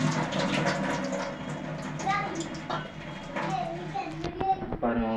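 Soaking water being strained off washed rice in a traditional open-pot kitchen, a steady pouring and trickling of water that runs throughout, with a voice and other chatter audible over it.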